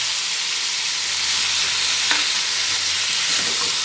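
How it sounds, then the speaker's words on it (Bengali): Rice and pumpkin fry together in a hot pan for a Bengali vegetarian dish made with Gobindobhog rice, giving a steady, loud broadband sizzle with a soft scrape or stir near the middle and no voices. "এবার একসঙ্গে চাল আর কুমড়ো সব ভেজে নিচ্ছি"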